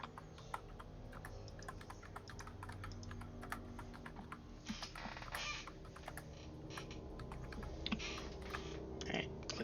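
A computer keyboard clatters with fast, uneven keystrokes at a quiet, close level, running continuously with brief pauses and no voices.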